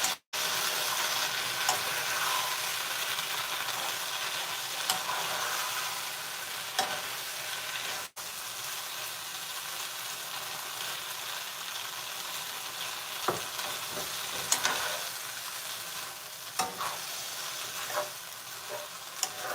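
Chicken livers and gizzards stir-fry in a skillet with a steady, fairly quiet sizzle, broken now and then by clicks and scrapes of stirring, with no voices.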